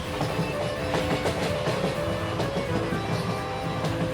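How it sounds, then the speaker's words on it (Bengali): A train sound effect of a train slowing as it pulls into Jamshedpur station, a loud, dense rumble with a rhythmic clickety-clack of wheels on rail joints throughout. "নির্জনতার ভিতর দিয়ে ঊর্ধ্বশ্বাস ছুটে ট্রেন গতি কমিয়ে প্রবেশ করলে জনকোলাহল মুখর জামশেদপুর স্টেশনে।"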